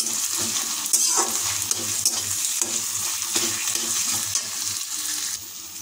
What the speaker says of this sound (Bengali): যেহেতু টমেটো কাঁচা লঙ্কা যোগ করেছে তাই এটা আমরা কিছুক্ষণ কষিয়ে নেব।